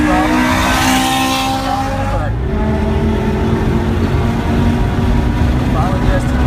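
A car lapping the Circuit of the Americas Formula One track, engine droning loudly and steadily under constant throttle, with a whoosh near the middle and a voice talking over it.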